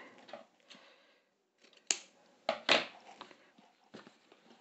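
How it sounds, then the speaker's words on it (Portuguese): Scissors trimming excess fabric while sewing a wrap dress, a few separate sharp snips and clicks close by, quiet with gaps of near silence between them. "Vou cortar logo aqui o excesso"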